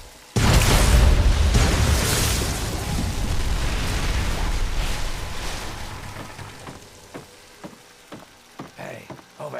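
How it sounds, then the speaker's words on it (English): A sudden loud blast goes off in Fallout 3 Point Lookout to seal a hole, then a long rumbling decay fades over several seconds before brief voices and small sounds follow. "It looks like an explosion should do the trick."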